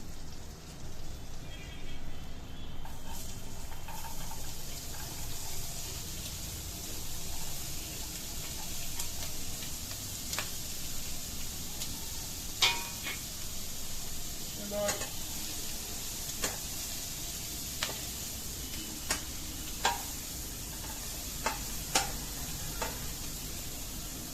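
Chopped beans, capsicum and carrot sizzling in a pan, a steady frying hiss broken by repeated sharp clicks and taps of a utensil stirring against the pan.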